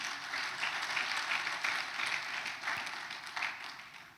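A church congregation applauds together during a Sunday service, a steady, moderately quiet wash of many hands lasting several seconds and tapering slightly at the end, with no voices.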